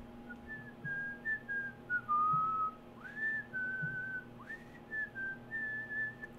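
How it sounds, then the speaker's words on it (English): A person whistles a slow wavering tune alone, with sustained notes sliding up and down and brief breaths between phrases, close and clear over a faint steady background hum. "I'm not very good at whistling."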